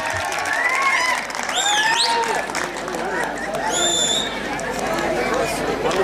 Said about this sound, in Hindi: तालियों में कोई कमी नहीं रहनी चाहिए।